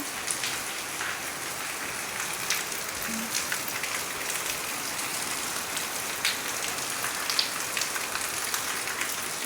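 Steady rain patters on surfaces, a dense continuous hiss with scattered droplet taps, moderately loud and unbroken throughout.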